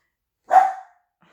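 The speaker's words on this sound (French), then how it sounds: "Ça, c'est une petite dédicace pour Géza, pour pas qu'on entende les aboiements des chiens" A single sharp dog bark, close and loud, then silence.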